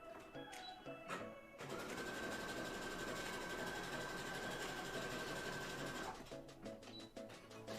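Domestic sewing machine running a quick test line of stitches: a steady, fast mechanical whirr with a faint whine lasting about four seconds, framed by a few clicks and handling sounds before and after.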